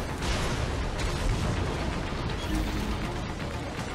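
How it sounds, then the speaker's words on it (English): An enemy blows up in the hack-and-slash game Metal Gear Rising: Revengeance, a loud, dense, rumbling explosive roar that fills the whole stretch without letup. "the guy just exploded to your right, how didn't you hear any of that?"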